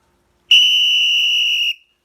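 A single sharp, loud whistle blast, one steady high tone held for just over a second and then cut off, heard alone with no talk.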